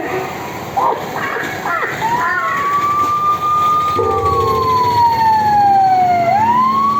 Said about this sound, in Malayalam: ഈ ആംബുലൻസ് ആരെ എത്ര പെട്ടെന്ന് ഹോസ്പിറ്റലിൽ കൊണ്ടുപോകുന്നത്